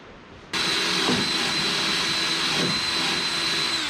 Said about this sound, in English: But first, I'm gonna wire wheel them because I know better.